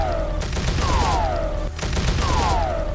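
Enemy gunfire rattles through a shooter video game as a dense, steady stream of shots, with descending whistling streaks layered over the constant fire.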